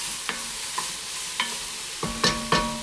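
Cabbage soup ingredients sizzling steadily in a pot, with several distinct stirring scrapes and clinks spaced through the frying hiss, close and fairly loud, no talking.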